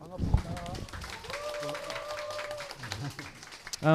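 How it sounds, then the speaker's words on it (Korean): An audience at a welfare forum in Korea gives scattered applause while a speaker keeps talking, with a sharp thump near the start. "소개해 드릴 때마다 큰 박수 부탁드리겠습니다"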